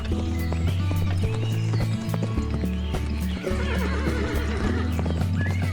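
Horses neigh loudly and repeatedly over a steady, rhythmic clip-clop of hooves, the whinnies near and prominent with no talking over them.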